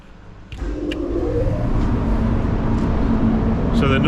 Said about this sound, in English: as it's a bit cold, and it looks like my battery's going dead already, we'll put the booth on.